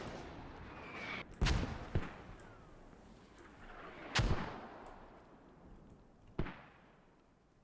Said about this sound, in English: Mortars still going down for both teams now